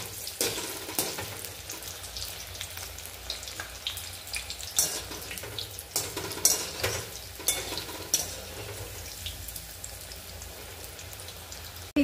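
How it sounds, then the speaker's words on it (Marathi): Alu vadi, colocasia leaf rolls, frying in hot oil over a high flame, a steady close crackling sizzle with scattered pops and bubbling spatters throughout. "चला तर मग व्यवस्थित तळून घेऊया. गॅस हाय फ्लेमवर ठेवायचा म्हणजे व्यवस्थित तळल्या जातात."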